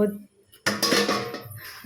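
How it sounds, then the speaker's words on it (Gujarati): Stacked dishes and pots being scrubbed and handled in a home kitchen after a meal, close metallic clanks and clinks in short irregular bursts. "તો હવે ઘસવાના છે વાસણ."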